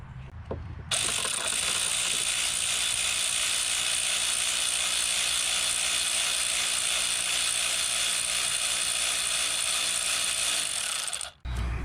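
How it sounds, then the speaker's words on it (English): Ratchet wrench working a 14mm alternator bolt on a Nissan Altima 2.5L, a steady rapid clicking held for about ten seconds, close and alone, ending abruptly. "Next one is the 14mm down on the bottom half of the alternator,"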